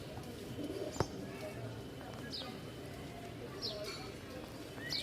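Rajshahi Giribaz pigeons coo softly in a loft, low and faint, with a few brief chirps and scattered background voices.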